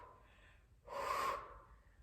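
One sharp, close breath is drawn in during a home workout, a brief hissing inhalation that rises and fades over about half a second against near-silence.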